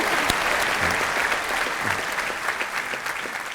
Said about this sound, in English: Let's please have a big rousing round of applause for our guests